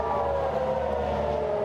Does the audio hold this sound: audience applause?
no